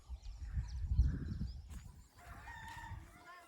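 A rooster crows at a distance amid low rumbling background noise, with faint bird calls carrying in the open air.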